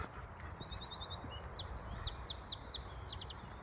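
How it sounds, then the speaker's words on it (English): A robin calls in woodland, a short series of thin, high chirps and trills repeating close by over a soft background rustle. "There's a robin."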